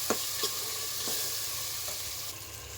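Spices with chili powder and turmeric being stirred in hot oil for pulao: a steady close sizzle with a few soft scrapes of the spoon against the pan.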